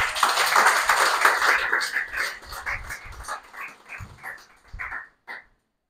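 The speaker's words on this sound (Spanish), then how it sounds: "Y si le damos un aplauso a él." Applause breaks out from a small audience at a Spanish-language religious talk, starting as a dense burst and thinning into scattered, uneven claps that stop abruptly at the end.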